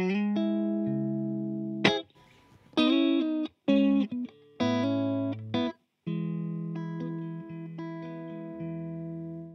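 Clean electric guitar on pickup position 4, neck and middle together, through a Fender amp, playing bright, sparkly notes and chords with sustained ringing tones and short pauses between phrases, close and clear.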